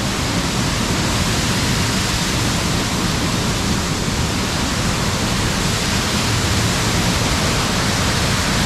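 Powerful water roars steadily from a dam outlet pipe in Punjab under high pressure. The rushing noise is loud and unbroken from start to finish, with no voices.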